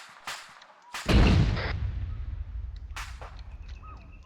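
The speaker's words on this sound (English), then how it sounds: "Looks like they have an AI on the mortar." A heavy mortar round fires in Arma 3 with a deep booming thud that rolls out into a long rumble, followed by sharper distant shots and game sound effects.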